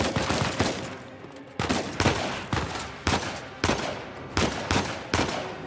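Gunfire in the shooter game Uncharted 4: A Thief's End, a steady run of sharp shots roughly every half second, each with a short decaying tail, loud and close with no talk.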